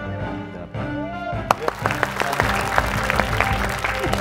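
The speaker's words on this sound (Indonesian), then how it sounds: "Apa tepuk tangan loh?" Studio audience applause on a comedy show, sharp claps rising over music and murmuring, building into a fuller round of clapping after the first second and a half.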